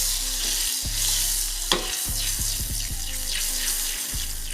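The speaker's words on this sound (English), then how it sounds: "So all you want the butter to turn into is like a nice brownish color." Butter browning in a pan gives a loud, steady sizzle and crackle, with scattered low clunks and scrapes of stirring close by.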